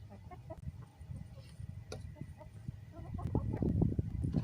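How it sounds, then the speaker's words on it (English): A rooster clucking low and repeatedly to call his hens over, soft rapid clucks close by with other fowl sounds and light rustling around, growing busier toward the end. "Can you guys hear him clucking at him? He's trying to call all the hens over."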